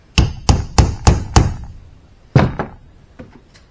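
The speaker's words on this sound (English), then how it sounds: "So you just get behind that lip and roll it over with this little homemade punch" A small homemade punch is struck to roll over a seal lip on a backhoe outrigger cylinder: five loud, evenly spaced hammer blows, a pause, then one more strong hit and a few fainter taps.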